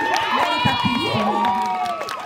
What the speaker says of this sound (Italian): complimenti. Un applauso. Bravo.